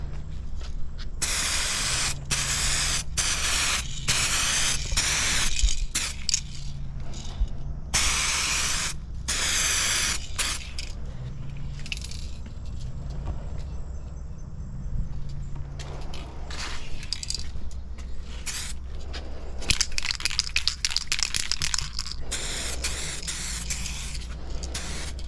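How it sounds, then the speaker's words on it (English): Headlight restoration product sprays onto a car headlight in a steady series of short, close hissing bursts. Brief pauses separate the bursts. "Do a little spray."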